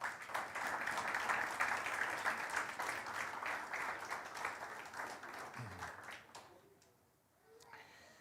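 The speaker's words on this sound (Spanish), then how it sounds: "Dale un aplauso al Señor." Congregation clapping during a church sermon, a steady round of applause that fades after about six seconds, leaving near silence.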